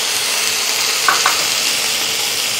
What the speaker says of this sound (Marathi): कांदा थोडासा भाजलेला आहे, आता यामध्ये टोमॅटो घालूया